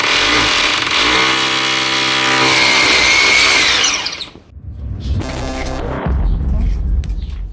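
A power drill bores an anchor hole into a wall for mounting a backyard outdoor fan, whining loudly and steadily for about four seconds, then a second shorter burst follows after a brief pause.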